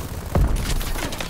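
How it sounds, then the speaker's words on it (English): A stun grenade is launched in a video game with one short, deep thump near the start, followed by a dull rumbling game backdrop. "I'm launching a stun grenade."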